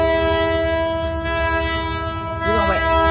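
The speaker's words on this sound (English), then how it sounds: "we got a train going through" A train rumbles past nearby, a loud steady low drone with strong sustained horn-like tones held throughout, plus a brief squealing rise near the end.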